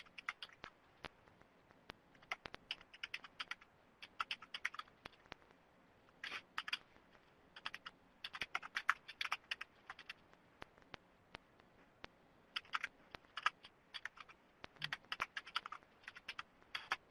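Keys clatter in quick, uneven bursts of typing with short pauses between, fairly faint against a quiet room.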